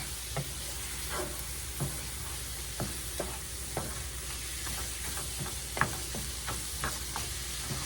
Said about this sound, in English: But let's get it stirred up